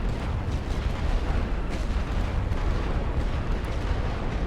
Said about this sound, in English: I'm gonna hit these with light artillery while we're waiting for the heavy artillery to reload